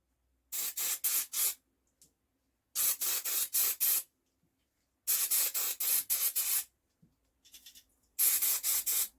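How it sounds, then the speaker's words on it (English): Brake cleaner sprays in four bursts onto gearbox parts such as clutch components, each a loud, close hiss lasting about a second and a half, the last one short and sputtering as the can runs nearly empty. "Running out of brake cleaner."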